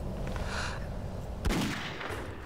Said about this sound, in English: Was that just a gun sound effect?